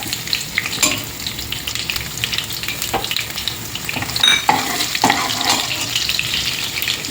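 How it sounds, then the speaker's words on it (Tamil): Oil sizzling and crackling steadily as mustard seeds, curry leaves and crushed garlic fry, with a few sharper pops and a brief stir partway through. "கடுகு நல்லா பொரியட்டும்"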